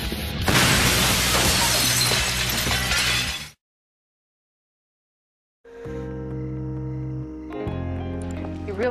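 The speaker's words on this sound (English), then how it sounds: "And you made us jump through a glass window" Glass shatters loudly as people jump through a window, a burst of crashing and tinkling fragments lasting a few seconds, then silence before other action noise resumes.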